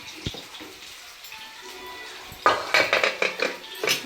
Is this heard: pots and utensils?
yes